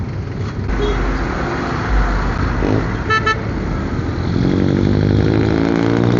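Road traffic streams through the Cubao intersection, a loud steady mix of car and motorcycle engines with short horn toots and a heavier engine rising near the end.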